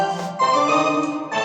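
A built-in keyboard demo song plays through the instrument's own small speaker, a brief bright melodic passage with sustained tones, close and fairly loud, with no talk.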